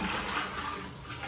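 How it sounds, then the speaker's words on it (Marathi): Water sloshes and churns inside a new clay pot being rinsed, a brief, loud, dense wash of swirling liquid close by. "आपण त्याला मस्त पाण्यात भरू आणि जरा खवळू त्याला मधून"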